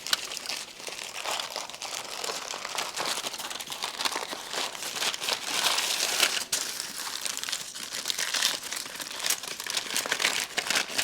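Aluminum foil crinkles and crackles steadily while being creased and its edges rolled around slabs of ribs for a hickory smoker, close and continuous with no talk.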